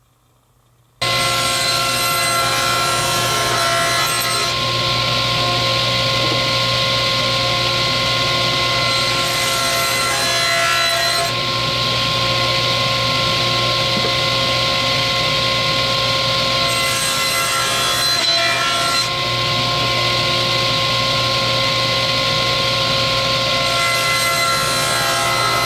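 Steady, continuous machine sawing through wooden pieces of a utility case, a loud, even whine that holds for over twenty seconds, with slight shifts in tone as each pass progresses and no voices.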